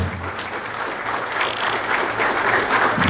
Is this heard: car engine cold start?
no